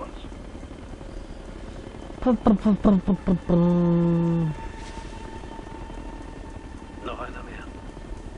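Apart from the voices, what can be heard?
enemy helicopter in video game Ghost Recon: Future Soldier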